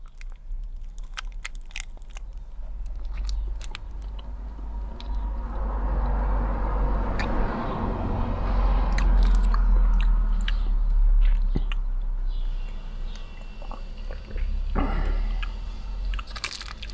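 A Dairy Fine Treat Size Dreamy chocolate bar is bitten and chewed close up, soft crunching and wet mastication running steadily under low background rumble, with no talking.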